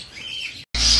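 A par blue ino opaline parakeet gives a short call: a brief chirp, a split-second gap, then a louder sharp squawk close by.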